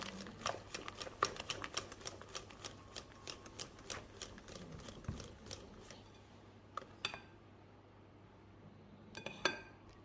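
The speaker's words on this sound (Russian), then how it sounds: "2 яйца и перемешиваем венчиком до однородного состояния" Eggs being whisked by hand with a whisk for a cake batter, a run of quick, light metallic ticks and clinks against a bowl, fairly close, easing off near the end before a few last taps.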